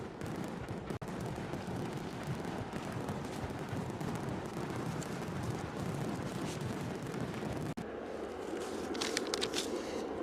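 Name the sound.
fireworks sound effect for a gifted membership on a live stream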